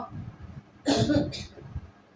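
A woman with a cold and fever gives one short, close double cough against a quiet room background.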